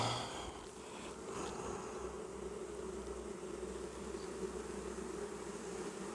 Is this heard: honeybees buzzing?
yes